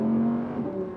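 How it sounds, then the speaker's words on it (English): An Audi R8 V10 Plus engine with its sport exhaust set to dynamic mode hums with a steady, loud tone that shifts slightly in pitch near the end. "when you put the car into dynamic mode, the tone of the engine changes"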